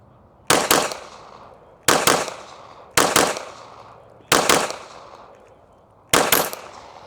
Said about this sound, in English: you should be ripping that trigger about as fast as you can pull the trigger twice